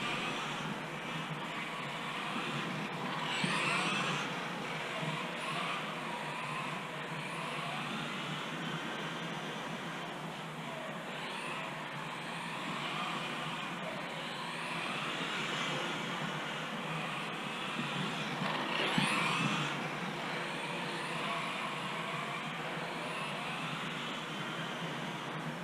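A Tamiya TT-02SW electric RC touring car circles a track, a steady whirring motor drone that swells slightly as it passes, with no talking.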